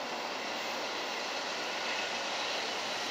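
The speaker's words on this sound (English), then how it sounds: "This train is going slow." A continuous broadband rumble and hiss of an Amtrak passenger train rolling along slowly and steadily, heard from inside or nearby, with no voices.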